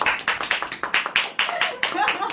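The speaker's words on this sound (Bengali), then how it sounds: "থ্যাংক ইউ, সবাইকে হাততালি দাও।" A small group claps hands at a Raksha Bandhan gathering, a quick run of close, uneven claps with sharp individual hits.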